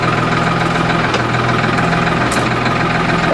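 A tractor engine runs steadily close by, a continuous mid-to-low idling drone with a faint knocking pulse throughout, heard alone without voices.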